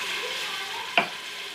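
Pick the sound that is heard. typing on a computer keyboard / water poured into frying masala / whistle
water poured into frying masala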